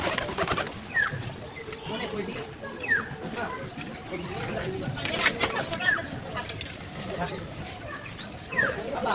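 Pigeons at a village market pigeon sale coo in short repeated calls spaced a few seconds apart, under steady crowd noise and people talking.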